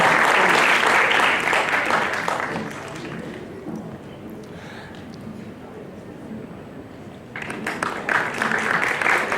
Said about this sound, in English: Please give me a huge round of applause.